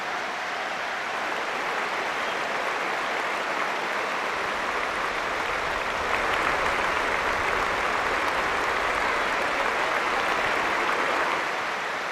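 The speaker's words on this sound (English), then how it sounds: "The Sheffield United supporters breaking into applause" A large football stadium crowd of Sheffield United supporters applauding, a dense, sustained wash of clapping that swells slightly midway and holds steady throughout, with no one speaking over it.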